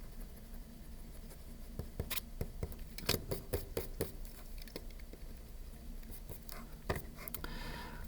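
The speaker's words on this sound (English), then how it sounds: "Let me go back and erase some of this." Erasing written work with short scratchy rubbing strokes and light taps, close but quiet over a steady background hum, with no speech.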